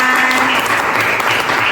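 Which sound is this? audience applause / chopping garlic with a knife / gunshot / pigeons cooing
audience applause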